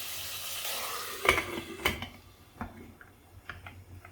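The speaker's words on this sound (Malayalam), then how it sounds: "ഇനി നമുക്കിത് കുക്കർ അടച്ച് വയ്ക്കാം" Over a faint sizzle, two sharp metallic clanks as a pressure cooker lid is set and locked shut, followed by a few lighter taps.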